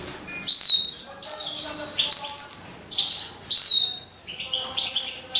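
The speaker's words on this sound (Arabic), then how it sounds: "وعندنا هذا طار كناري" A canary sings a rapid series of bright, high chirps and whistled trills in close, loud bursts, each about half a second long and separated by brief pauses.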